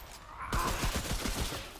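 A short burst of rapid SMG fire from the co-op shooter Remnant: From the Ashes, the shots close and quick in a tight rattling string lasting about a second, with no talking.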